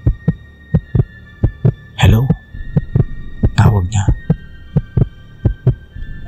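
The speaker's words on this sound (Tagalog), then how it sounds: "Bumilis ang tibok ng puso niya." A steady, deep heartbeat thumps at an even, fairly quick pace through a horror story, with a narrator's voice speaking over the middle beats.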